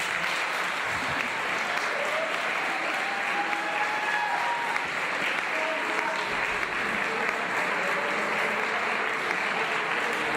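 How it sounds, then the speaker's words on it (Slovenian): Sustained applause from a school audience at a closing ceremony, thanking the headmaster, dense and steady clapping throughout with faint voices murmuring underneath. "se z aplavzom zahvalimo gospodu ravnatelju Simonu Feštanu"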